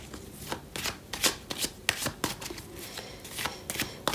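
A deck of oracle cards is shuffled and drawn by hand, making a quick run of close, crisp riffling and flicking bursts that repeat steadily without any voice over them.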